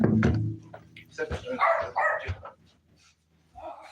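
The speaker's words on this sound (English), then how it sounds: "Dog's being goofy." A pet dog indoors gives a burst of yips and barks at the start. Whimpery vocal sounds follow, mixed with some talk, then a pause and a faint sound near the end.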